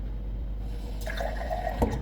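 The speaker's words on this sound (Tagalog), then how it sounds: "ilalagyan ko muna ito ng kunting tubig." Water is poured into a cup to start homemade matcha: a short, soft trickle of filling liquid that begins about halfway through, after a quiet lead-in.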